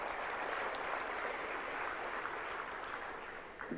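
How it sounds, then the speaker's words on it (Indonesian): Faint, steady applause rises from an audience at a business outlook event, a soft continuous clatter of clapping that thins out toward the end. "Saya kira perlu aplaus kali Pak ya."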